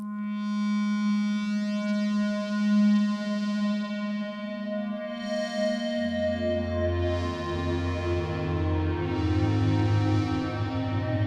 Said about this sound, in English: we're going to change the Unison detune to, we have a dedicated slider for that